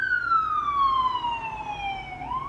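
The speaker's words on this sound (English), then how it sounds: "I am so sorry for the siren." A single emergency vehicle siren sweeps past at moderate distance, one long descending wail that dips in pitch as it passes and then begins to rise again, heard alone over faint traffic rumble.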